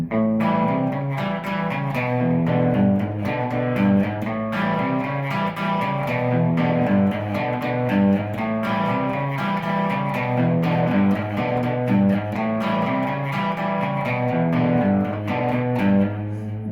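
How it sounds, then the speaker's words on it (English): Rhythm guitar switches back and forth between a riff in A and a riff in E, played as a steady, busy stream of picked notes and chords with no gaps. "you're going to alter between the riff in A and the riff in E."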